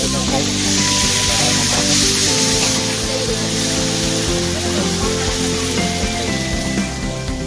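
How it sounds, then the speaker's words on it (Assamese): Mixed vegetable curry with carrot, cabbage and potato sizzles and hisses in a hot pan, a continuous loud frying sound with faint background voices. "এয়া মই মিক্স ভেজ চব্জি, মিক্স ভেজটো বনাই আছোঁ।"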